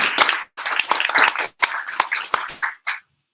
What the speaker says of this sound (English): Let's make a big applause, please.